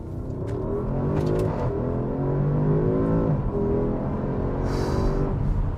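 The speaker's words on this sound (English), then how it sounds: "let's do a quick pull using just the gas" A Porsche Cayenne Turbo S E-Hybrid Coupe accelerating hard on its gas engine alone, with a loud, steady engine roar that climbs in pitch through the pull and a brief hiss near the end.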